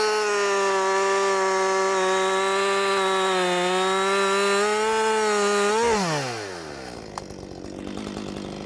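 Chainsaw cutting through a tree trunk during felling, a sustained steady engine whine under load for about six seconds, then the pitch drops sharply as the saw comes off the cut and idles down, close and loud.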